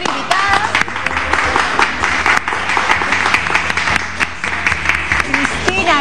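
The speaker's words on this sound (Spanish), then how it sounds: "un aplauso para nuestra invitada" Studio audience applause for a guest on a Peruvian TV cooking segment, loud and continuous clapping mixed with upbeat music.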